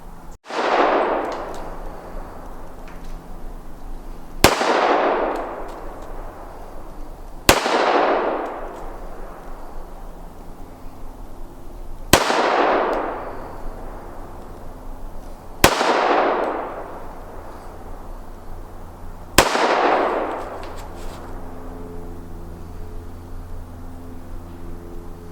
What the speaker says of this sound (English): I think I'm going to fire a few shots off just for fun.